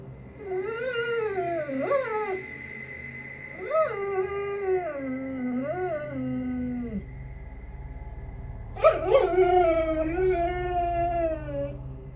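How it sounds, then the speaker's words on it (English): A dog whines and howls in long, wavering, pitched cries that rise and fall, with quiet gaps between bursts and a louder outburst near the end, close to the listener. "He's seen in the video staring at something and whining for several minutes."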